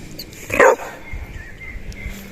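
A dog gives one loud, sharp bark close by, followed by quieter background rustling.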